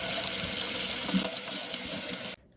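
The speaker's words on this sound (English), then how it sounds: "First, you gotta get about 3 russet potatoes, wash them." A kitchen tap runs steadily as russet potatoes are rinsed under the water, a continuous close splashing gush that cuts off abruptly near the end.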